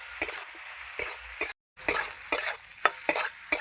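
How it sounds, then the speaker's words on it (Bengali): Spices and potatoes are stirred in a frying pan, giving a series of scraping strokes over a soft sizzle, with a brief silent gap midway. "এই যে মশলাটা একটু নেড়ে চেড়ে নিয়ে এবার আমি হলুদটা দেবো আবার নাড়াবো"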